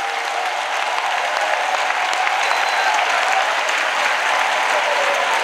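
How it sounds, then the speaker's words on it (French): A church congregation claps together as a clap offering during a French-English worship service, a continuous dense roar of applause that holds steady throughout with no voices over it. "Clap offering."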